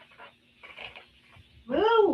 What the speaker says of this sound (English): Dog not cooperating.